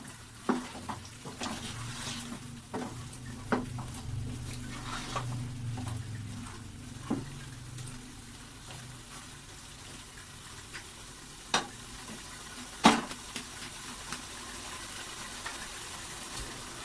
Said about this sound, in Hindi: हमारा चिकन इतने में ही भून जाएगा अच्छे से। हिला लें,